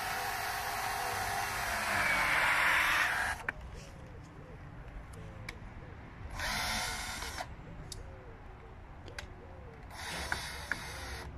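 A power drill drives a screw into a grape vine trellis outdoors, the motor whirring loudly for about three seconds, then two shorter bursts follow after pauses, with faint background noise throughout.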